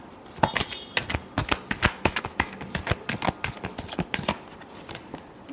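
Tarot cards are shuffled in quick riffling bursts, a close, crisp run of dense flicks and snaps that keeps going steadily with no voice over it.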